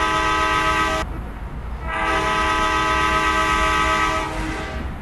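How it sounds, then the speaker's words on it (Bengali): A train horn blows loud and close in two long sustained blasts, with a short pause between them and rumbling running noise underneath. "ওদেরকে একটু ডিস্টার্ব করে হরেন দিই।"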